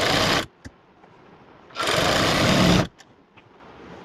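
A sewing machine stitching the side seams of palazzo trousers with a half-inch margin runs in two loud bursts, one brief at the start and a longer one of about a second in the middle, separated by quiet gaps.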